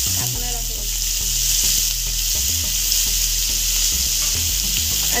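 Finely chopped onions with asafoetida fry loudly in hot oil for Kolhapuri misal, a dense continuous sizzle with occasional stirring scrapes, close up and alone.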